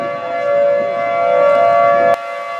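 A civil defense tornado siren wails during a storm as a steady, loud, sustained tone that holds for a couple of seconds and then cuts off abruptly near the end.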